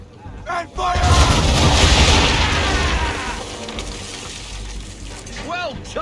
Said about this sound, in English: Bring her around broadside, and when all guns are on target, call fire.